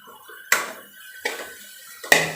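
Grated carrot being stirred and sautéed in a pan over low heat for carrot halwa, three distinct scraping clanks of a spoon against the pan with quiet gaps between, close by.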